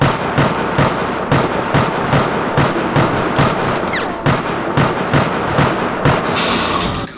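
Repeated pistol shots from a Resident Evil Raccoon City co-op shooter, loud sharp cracks fired at a steady rhythm, roughly one to two per second, over continuous game noise with no talk.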